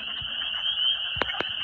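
Spring peeper frogs call in a steady, high, continuous chorus close by, with two sharp peeps standing out near the end.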